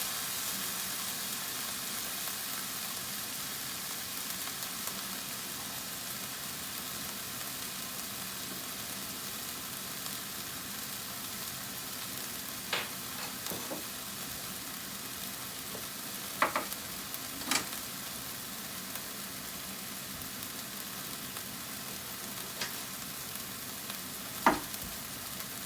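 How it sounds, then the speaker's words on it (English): Onions frying in a pan on a stovetop burner give a continuous, even sizzling hiss throughout, with a few faint clicks and taps scattered over it. "because my onions are cooking pretty fast"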